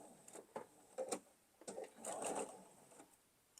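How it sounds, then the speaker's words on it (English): Sewing machine stitching a quilt block, with short bursts of rapid mechanical needle clatter separated by brief pauses, close and moderately loud, with no talking. "And I'm sewing with the same seam allowance I have been."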